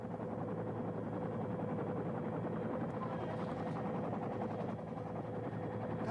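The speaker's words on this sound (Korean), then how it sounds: "육군과 공군, 경찰 헬리콥터 8대가 동원돼 구조 작업을 벌이고 있는 모습입니다" Military and police rescue helicopters hovering over the 1987 Geum River flood, giving a steady, throbbing rotor drone that holds at an even level throughout and sounds moderately distant.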